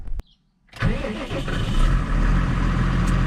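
A T7 tractor's diesel engine cranks and catches after a brief silence, then settles into a loud, steady rumble at close range with no talk over it.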